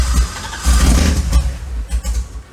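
A totaled Corvette's engine cranks and fires on its first start, a loud close rumble with uneven bursts and surges over about two seconds.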